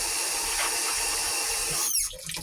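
Tap water runs steadily into a sink while dishes are washed at a homestead, a continuous close hiss that cuts off near the end, leaving faint clatter.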